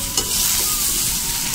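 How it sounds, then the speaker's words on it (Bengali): Spatula stirring fried eggplant and pumpkin with ginger and green chilli in a hot pan, a brief scrape followed by loud continuous sizzling, close and alone. "এই আদা কাঁচা লঙ্কাটা দিয়ে দিলাম এর মধ্যে, ভালো করে নেড়ে নেবো এবার আমি।"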